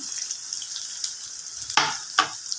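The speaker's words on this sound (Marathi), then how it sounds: "छान परतून घ्यायचं आपल्याला आणि लालसर होजेपर्यंत छान भाजून व्यवस्थित" Onion and green chili fry in a pan for mung dal bhaji, a steady close hiss of sizzling broken by two louder bursts of spattering as the pan is stirred, with no talk.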